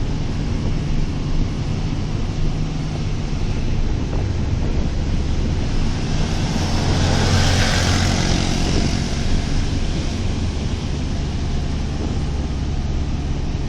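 Steady roar of beach surf and gusting wind buffeting the microphone, broadband and continuous, swelling briefly in the middle before settling back.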